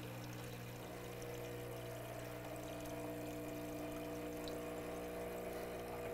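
A Profitec Pro 600 espresso machine pumps water through its group head with a low, steady, humming drone that stays even throughout, faint and close, with no talking.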